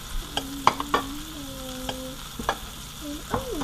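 Butter sizzles in a hot pan around a stuffed venison loin, a soft steady hiss with scattered crackles and pops near by, while faint tonal clinks or squeaks ring out briefly in the background.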